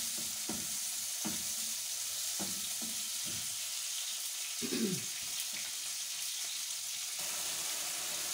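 Bitter gourd being sautéed in a pan for a home-cooked Filipino meal, with a steady frying sizzle broken by several sharp utensil scrapes and stirring knocks, close and fairly quiet, without talk.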